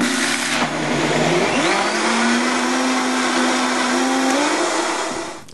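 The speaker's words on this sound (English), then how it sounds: "Blend again really quickly." Countertop blender whirring steadily to blend homemade almond milk, a loud continuous motor drone with rising pitch as it spins up, running for several seconds then cutting off.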